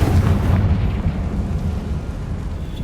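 A Confringo spell explosion in Hogwarts Legacy bursts out as a loud, deep boom, then rolls into a heavy rumble that slowly fades.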